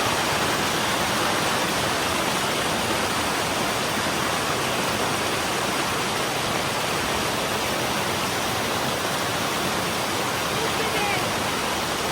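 A waterfall at the glacial lakes of Terazin in Hakkari roars steadily and loudly, a dense unbroken rush of falling water filling the whole span without letup.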